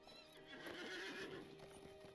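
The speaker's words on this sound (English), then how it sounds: "We'll get on our horse." Horse hooves clip-clop steadily in Lord of the Rings Online, with a neigh or whinny rising briefly near the start, all at moderate volume over a constant in-game ambient backdrop.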